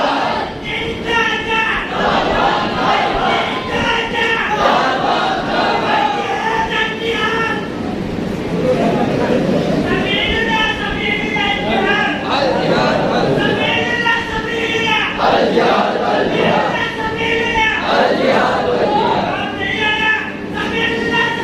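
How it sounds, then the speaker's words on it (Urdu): Crowd at a religious gathering with a Maulana's speech, chanting slogans in loud rhythmic bursts that rise and fall repeatedly, filling a large space with massed voices throughout. "نعرہ لگا دے, نعرے دے."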